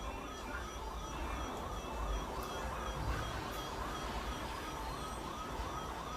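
A police car siren wails steadily in the distance over a constant rumble of traffic, its rising and falling tone faint but continuous.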